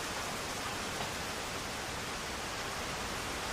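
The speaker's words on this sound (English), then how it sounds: "It's a very rainy August here." Steady rain falling outside on a rainy August day, a continuous even hiss with no breaks, fairly faint and distant, with no voices.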